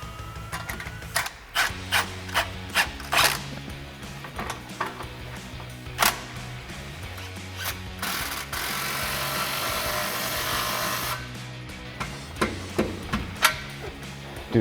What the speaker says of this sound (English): And then you can grab a 15mm socket and tighten down your 2 clamps.